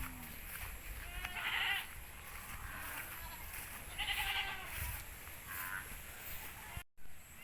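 Goats out past a fence on a farm bleat loudly and repeatedly in wavering calls over a steady outdoor background, with a few bleats standing out close and strong.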